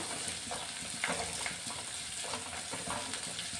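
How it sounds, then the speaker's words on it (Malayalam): Ingredients for a raw robusta banana curry sauté steadily in a hot pan, a continuous close sizzle and fry with light scraping and stirring, heard alone without talk. "നല്ല ഒന്ന് വഴന്ന് വരണം"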